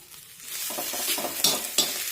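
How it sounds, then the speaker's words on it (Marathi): Green chilies, cumin and coriander stir-fry in a pan with a close, brisk sizzle, two sharp utensil scrapes against the metal rising over the frying, and no talking. "आता कोथिंबीर सुद्धा यासोबत परतून घेऊया"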